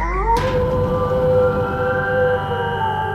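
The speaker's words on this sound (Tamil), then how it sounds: "வெளியே எங்கோ தூரத்தில் நரிகள் ஊளையிடும் சப்தம் கேட்டுக்கொண்டிருந்தது" Jackals howling far off at night, several drawn-out wavering cries layered together over a steady low background rumble, continuous through the clip.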